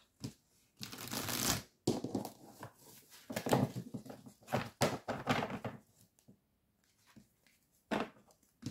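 Calypso oracle cards being shuffled, close and soft, in irregular bursts of riffling and flicking with thumps and short pauses between, no voices.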